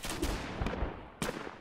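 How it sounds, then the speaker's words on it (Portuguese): Battle explosions and gunfire in the Roblox war game Operation Overlord, a few sharp booming bursts against a rumbling background, with a strong blast near the end, fairly faint overall. "O negócio explodiu aqui do meu lado"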